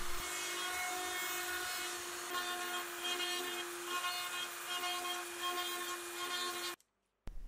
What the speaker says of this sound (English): now I can separate these parts again and start to clean up those ugly edges with the handheld router